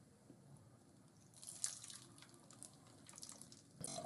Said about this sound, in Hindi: अब गर्म करके मैं इस बॉटल में डाल रहा हूँ।